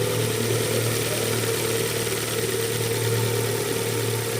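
A car engine runs steadily after its intake and intake port were cleaned, a continuous mid-pitched idle hum with a faint buzzing tone, close to the microphone and without talk.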